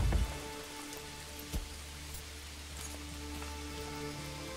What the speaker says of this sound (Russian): Сентябрь, пошел дождь.